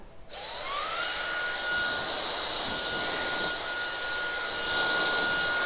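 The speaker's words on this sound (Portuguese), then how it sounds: "Então eu acabo não trabalhando com ele na velocidade alta do secador." A hair dryer running at medium speed on doll hair makes a steady, loud high-pitched whir that starts abruptly and holds constant throughout, with no talking.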